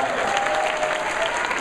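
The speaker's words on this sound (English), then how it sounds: "So everybody, give a big round of applause to Fred." Dense, continuous applause from a convention panel audience, loud and close, with no breaks throughout.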